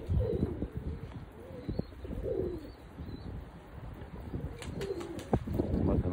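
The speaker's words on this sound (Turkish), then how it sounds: "Kuşları da oraya çektik bir kısmını, görüyorsunuz." A flock of tumbler pigeons coos softly in repeated low, throaty phrases, with occasional chirps and brief wing flutters, heard outdoors at moderate distance over a steady background hum.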